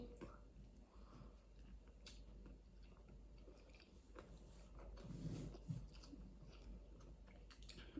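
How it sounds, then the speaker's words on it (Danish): Someone bites into and chews a burger at close range, with soft squishy mouth noises that build to a louder crunching burst partway through. "så jeg bliver nødt til at tage endnu en bid"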